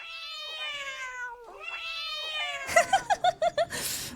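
A cat gives several drawn-out, wavering meows one after another, fairly close and clear, followed by a quick run of short chirpy calls and a burst of noise at the end.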